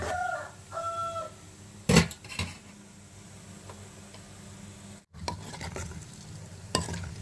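Cumin seeds and urad dal crackle lightly in hot oil with a soft, even hiss, broken by a few sharp utensil knocks. A rooster-like call sounds in the background at the very start.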